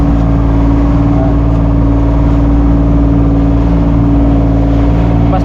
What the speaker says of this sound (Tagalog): Tumatalo yung motor